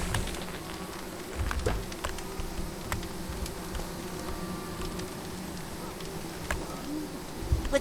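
Bees buzz softly in the video game Psychonauts 2, a faint steady drone under light game sounds and occasional clicks.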